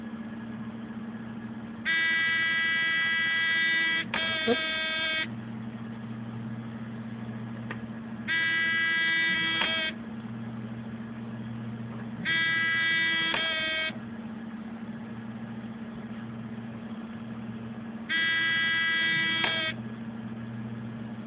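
A homemade car alarm blares through a small speaker in bursts of harsh, buzzing electronic tone, four separate blasts with gaps between them, all over a steady low hum. One short exclamation comes partway through.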